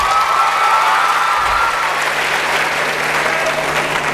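Loud, dense applause from an audience at a Dakar event honouring a young Senegalese woman, steady clapping that fills the room without a break.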